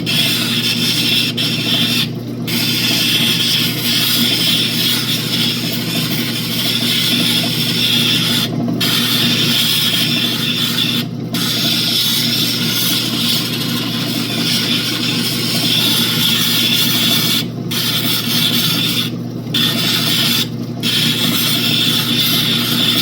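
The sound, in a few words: lapidary belt wheel grinding an opal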